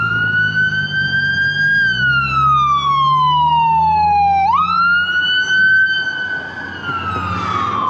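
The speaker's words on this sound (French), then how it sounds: "Oh, ambulance." An ambulance siren wails loudly and close, its pitch sweeping slowly down and then jumping back up as it passes, heard alone without talk.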